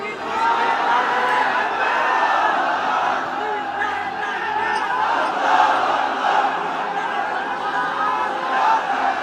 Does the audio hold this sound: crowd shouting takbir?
yes